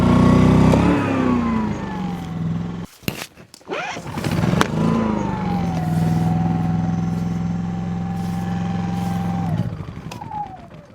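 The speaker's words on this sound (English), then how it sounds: "Looks like the generator is not going to run the air compressor." A portable generator strains under the load of an air compressor at startup, its engine bogging and surging, cutting out briefly, then settling into a loud, labored drone before dropping off near the end.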